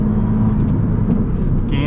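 An Audi S3 with a Stage 2 tune runs at full throttle on the road. Its engine gives a loud, sustained, rising roar from inside the car while someone talks over it.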